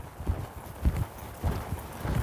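Horse hooves during a flying lead change exercise, four soft dull clip-clop beats in an even loping rhythm, close by and alone.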